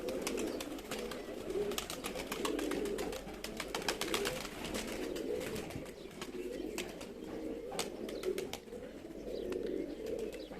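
Flock of pigeons gathered together, soft overlapping cooing and rustling with scattered sharp clicks and flutters, steady and moderately faint.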